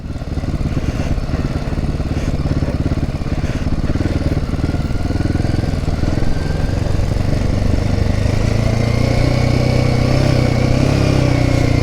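Motorcycle engine running steadily in first gear while descending a steep drop off-road, a loud close continuous drone whose pitch shifts lower then rises toward the end, with no talk.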